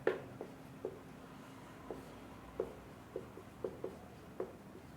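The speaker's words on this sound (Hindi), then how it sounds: "पहले हम लिखते हैं।" Pen on paper, a string of faint, light scratchy taps and short strokes spaced unevenly over a few seconds, close and quiet against a low room hum.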